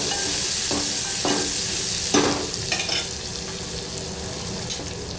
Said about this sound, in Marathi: आता हे टेचून घेतलेलं जिरं, लसूण आणि कोथिंबीर टाकून घ्यायची आणि हे सगळं मंद आचेवरती फोडणी द्यायचं